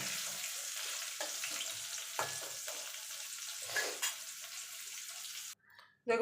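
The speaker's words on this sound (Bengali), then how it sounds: "আলুটাকে লাল লাল করে ভেজে নেব" Potato pieces seasoned with a little turmeric and salt frying in oil until reddish, a steady close crackling sizzle with occasional stirring scrapes, cutting off abruptly near the end.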